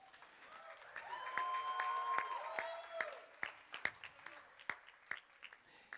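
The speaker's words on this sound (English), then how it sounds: "give a round of applause to the to bride and groom" Guests at a sangeet celebration applaud the bride and groom, a scattered run of sharp claps over a background of voices and music-like tones, thinning out toward the end.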